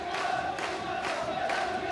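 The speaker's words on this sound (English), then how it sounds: "the crowd is certainly getting behind the team now underneath us" A steady wall of supporters chanting and roaring at Stockport County's 1994 FA Cup third-round match against QPR, rising in rhythmic surges, distant and continuous.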